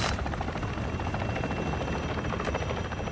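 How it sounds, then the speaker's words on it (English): Helicopter flying over an active combat zone in the video game DMZ, a loud steady rotor drone with dense thudding noise that fills the whole stretch without a break. "Please don't shoot me, helicopter."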